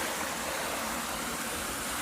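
Water pours down Kuliraatti Falls at Saptur Vazhaithoppu as a steady, broad rushing hiss, constant and fairly near with no pauses.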